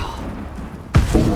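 Confringo fire spell blasting in the Hogwarts Legacy video game: a quiet lead-in, then a single sudden, heavy booming impact about two-thirds of the way through that rumbles on to the end.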